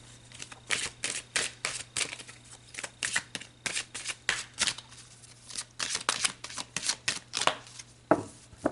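Tarot cards shuffled by hand in quick, rhythmic riffles and soft slaps, close and fairly quiet over a low steady hum, continuing without talk for several seconds.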